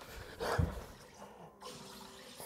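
A SodaStream machine forces a sharp hiss of carbonation into chicken broth, a short burst of gassy rushing and bubbling up close, then a fainter fizzing tail.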